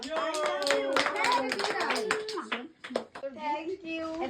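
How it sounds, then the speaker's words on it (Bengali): A few people clap at a child's birthday party in an indoor family setting, brief scattered claps heard under lively talking and children's voices. "হাততালি দাও সবাই, হাততালি দাও।"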